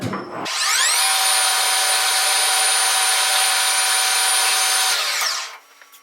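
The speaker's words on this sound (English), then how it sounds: "Put our little hole in the end there so that we can peen that over." A drill bores a small hole into the end of a tap handle with a steady, whining run of about five seconds that starts and stops abruptly, close and loud, with no talking.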